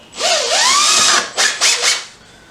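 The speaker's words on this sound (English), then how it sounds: "So, let's drill a hole there." A power drill whines loudly for over a second as it bores into a Mazda MX-5 Miata tail light, then revs in three short bursts before stopping.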